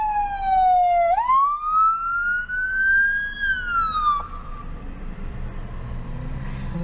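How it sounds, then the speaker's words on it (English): An ambulance siren passes along a street outside, a single loud wailing tone that dips, then climbs slowly and falls away, with traffic rumbling underneath. "Sorry, there's an ambulance coming down the street."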